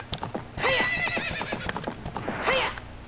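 A horse whinnies twice with steady clip-clop hoofbeats underneath, from Zelda: Ocarina of Time near Lon Lon Ranch, the neighs bright and close over the trotting rhythm.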